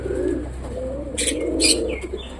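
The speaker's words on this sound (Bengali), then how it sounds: "হ্যাঁ ভাই ওটা পশ্চিমা পায়রা" A Western pigeon coos in low, rolling phrases close by, with a few brief higher chirps breaking in partway through.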